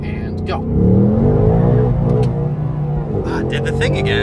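A 2024 Mustang GT engine revs hard and holds at a steady high pitch, bouncing against its rev limiter, with a voice speaking over the droning motor.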